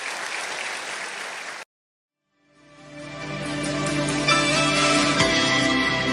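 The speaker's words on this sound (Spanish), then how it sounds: "Démosle un fuerte aplauso a Dios" A church congregation claps in a dense burst for about a second and a half, then stops abruptly; after a short silence, sustained instrumental music swells up and continues to the end.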